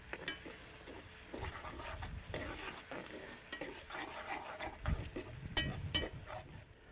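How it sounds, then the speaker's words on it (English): Fig jam stirred in a skillet over a charcoal grill, giving a close, continuous sticky sizzle with repeated scraping strokes and a few louder clacks near the end. "Let's give this a quick stir."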